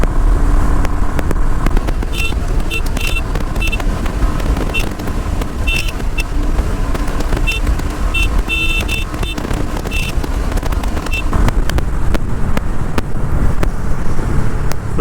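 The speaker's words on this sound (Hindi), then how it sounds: "ये मैंने ले लिया फुल एक्सीलेटर।" Royal Enfield Hunter 350 motorcycle at full throttle on a highway, a steady engine drone mixed with heavy wind rush at the microphone, loud and continuous throughout with faint beeps scattered over it.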